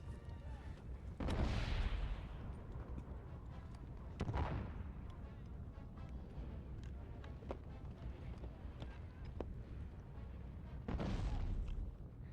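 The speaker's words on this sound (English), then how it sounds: "We were actually seeing an exchange of small artillery coming from both sides." Small artillery trading fire from both sides in a WARNO Star Wars battle: three distant heavy booms spaced several seconds apart over a steady low rumble of battle ambience, with voices faintly underneath.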